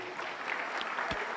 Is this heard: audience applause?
yes